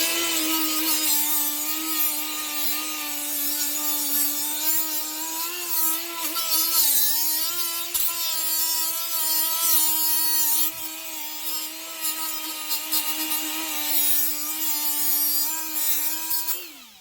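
A Milwaukee 2-inch die grinder runs continuously at high speed for the whole stretch, a loud steady whine with slight pitch dips as it bears down on a workpiece, close up and with no voices.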